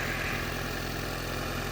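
A 1962 Rambler American engine fitted in a 2001 Honda Civic body idles steadily with a low, even rumble and hum that holds constant throughout, fairly quiet and alone.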